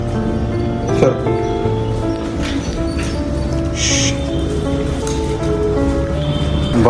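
Rain falls steadily outside as a constant hiss with scattered drop patter, and a few faint bird chirps rise above it. No voices are heard.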